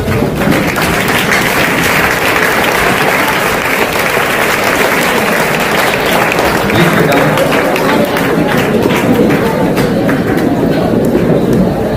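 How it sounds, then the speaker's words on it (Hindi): A school audience at an SSC students' farewell ceremony stands and applauds the school chairman, with dense, sustained clapping from a large crowd filling the hall steadily for the whole stretch, voices mixed in underneath. "आप खड़े हो जाइए, एक बार तालियां बजाइए इनके लिए"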